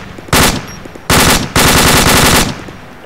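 Video game machine-gun fire in three loud, sharp-edged bursts, each sustained rapid fire close by, separated by brief pauses.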